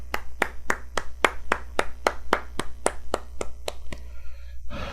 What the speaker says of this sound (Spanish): Dale un aplauso al Rey, amado.